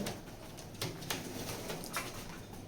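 Pigeons coo softly nearby, low murmuring calls mixed with faint flutters and light tapping sounds in a quiet space.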